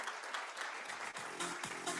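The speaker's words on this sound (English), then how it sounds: "Please, a round of applause for him." Audience applause for Bibhor at the iGen Design Forum 2024, an architecture and interiors event in India: a dense, steady wash of many hands clapping, fairly loud and continuous, with a few tonal murmurs underneath toward the end.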